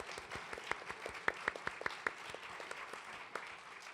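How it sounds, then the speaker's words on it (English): A small audience at a theatre launch concert claps for sponsors, a sparse, fairly quiet patter of individual claps with a few sharper, louder hand claps, thinning out toward the end. "let's give them all a round of applause."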